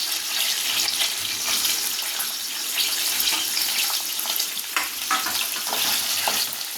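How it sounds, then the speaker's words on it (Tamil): Curry leaves and onions fry loudly in hot oil for a thick mutton curry, a steady close crackling sizzle with occasional stirring, no talk. "கருவேப்பிலை போட்டுக்கலாம் அடுத்து வெங்காயம் போட்டுக்கலாம்"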